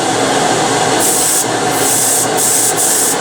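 Close, loud, continuous hiss of a Paasche H airbrush spraying paint at 35 psi with the needle about halfway open, a steady rushing noise with slight shifts in tone as the spray is adjusted.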